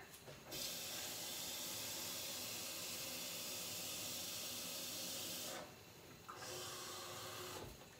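Water poured into a soup pot for a copycat Zuppa Toscana, a steady rushing hiss lasting about five seconds, pausing briefly, then resuming for a short second pour, close and fairly loud.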